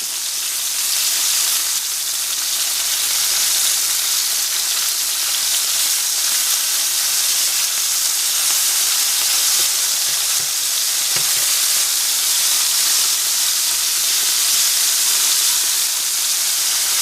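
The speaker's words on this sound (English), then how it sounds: "you turn deer meat when you're frying it" Deer steak frying in a pan, a loud, steady, close hiss of sizzling fat that continues unbroken, with faint small pops and no voices.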